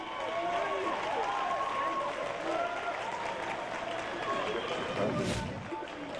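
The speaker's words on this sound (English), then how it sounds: "You can hear the crowd" A gymnastics arena crowd at the 2008 Winter Cup men's all-around final roars and applauds steadily throughout, with a commentator's voice running beneath and a brief louder swell near the end.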